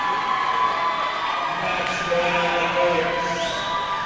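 Crowd of fans in a Northern California gym cheering at a women's community college volleyball quarterfinal between American River and El Camino, a steady loud roar with whoops, continuous and near.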